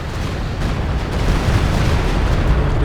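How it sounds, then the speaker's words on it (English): A walking Stuka rocket barrage exploding in the video game Company of Heroes 2: a dense, continuous roar of blasts with low rumble, loud and sustained, swelling slightly toward the end. "walking Stuka barrage coming through"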